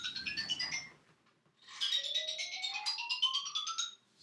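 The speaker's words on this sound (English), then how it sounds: "Never heard the phone ring like that." A phone ringtone plays a bright warbling melodic phrase, pauses briefly, then repeats with a rising trill, clear and close with no talk over it.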